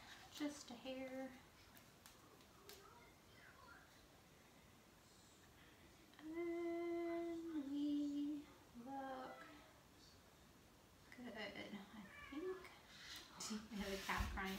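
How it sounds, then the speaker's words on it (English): Domestic cat cries and meows repeatedly, fairly close, with drawn-out wavering calls in the middle and more near the end, while a person talks quietly during a craft project. "I have a cat crying in the background."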